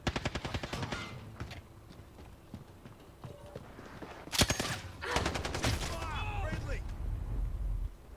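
Bursts of rapid gunfire in a video game shoot house, loud volleys at the start and again past the midpoint, with quieter stretches between and some game noise underneath.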